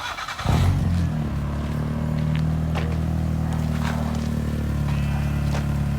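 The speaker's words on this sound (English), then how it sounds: "Go give me a little rev again" Volkswagen MK4 Bora with a newly installed exhaust, its engine kicking up in a quick rev and then holding a loud, steady drone close by, with no talk over it.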